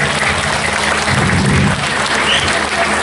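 An audience at a Balinese comedy performance bursts into loud, dense applause, many hands clapping continuously for about three seconds close to the microphone.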